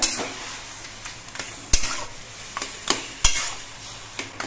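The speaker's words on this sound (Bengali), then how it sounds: "এবার সব কিছু দিয়ে নেড়ে চেড়ে মিশিয়ে বেশ কিছুক্ষণ কচু শাকগুলোকে রান্না করতে হবে।" Taro leaves with turmeric cooking in a pan, a constant sizzle broken by repeated sharp spoon knocks and scrapes against the pan at irregular intervals, close up with no voices.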